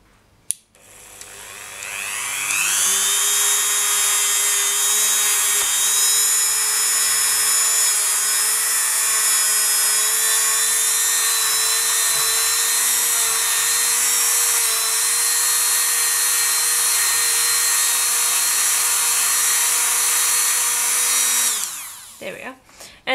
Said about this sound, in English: And I'll bring over our buffing wheel.